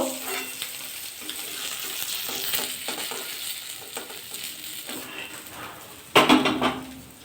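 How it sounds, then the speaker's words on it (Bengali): Parshe fish frying in hot oil in a pan, a steady close sizzle with occasional clinks and scrapes of a utensil stirring and turning the pieces, and a louder burst of hissing near the end. "এইভাবে সব মাছগুলো ভাজা করে নেব"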